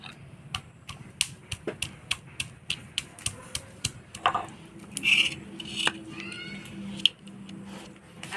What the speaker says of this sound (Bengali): সবার প্রথমে অল্প আদা বাইটে নিব।